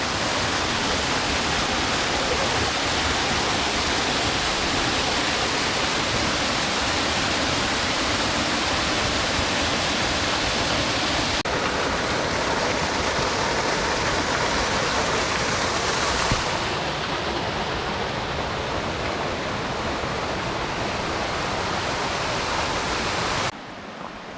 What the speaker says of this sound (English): We passed the waterfalls and we have about 3/4 of a mile to go.